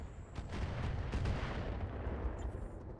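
Mech weapons firing in the RogueTech BattleTech video game, a heavy continuous rumbling barrage of booms and crackling impacts that rolls on at steady loudness for several seconds with no voice.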